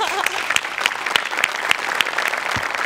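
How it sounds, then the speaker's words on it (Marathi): A studio audience claps loudly and continuously for about three seconds, bright, steady applause on a Marathi comedy show set. "स्वतःसाठी एकदा जोरात टाळ्या वाजवा"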